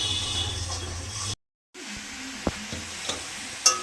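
Spice paste sizzling and frying in a pan for a fish curry with yam, a steady soft hiss broken by a brief silence, then quieter sizzling with a few stirring clicks and knocks, no talk.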